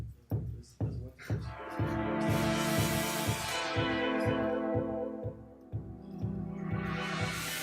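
Synth rhythm run through Logic's Autofilter plugin with its envelope switched off, a steady pulsing pattern of repeated notes with a sweeping filtered tone that opens and closes, played alone without talk.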